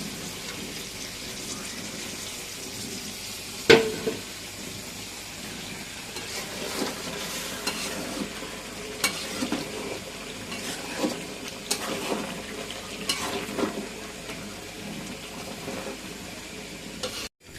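A spoon stirs braised biryani meat with a little broth in a pot. A continuous sizzling crackle runs throughout, with a sharp clank early on and scattered scraping taps later.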